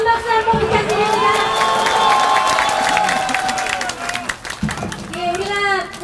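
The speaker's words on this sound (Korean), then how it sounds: "더 큰 박수 한번 부탁드립니다" A large crowd at a Korean political party rally cheers loudly and claps, with shouts and whoops rising over steady applause, briefly dipping before swelling again.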